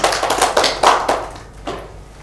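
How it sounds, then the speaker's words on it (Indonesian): A classroom of students claps in applause, a short burst of several loud, uneven hand-claps that thin out into a few scattered claps before fading. "tepuk tangan."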